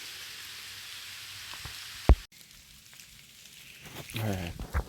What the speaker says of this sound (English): it's fucking raining pretty good